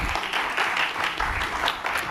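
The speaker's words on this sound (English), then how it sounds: "let's give her a warm round of applause" Warm round of applause from an audience at a tech investment event, steady crowd clapping throughout, fairly close and full, with no talking over it.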